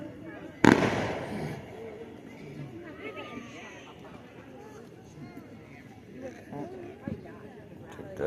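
A single sharp firework bang goes off near the start, followed by fading crackle, while people chatter and talk over the rest, with a smaller pop later on.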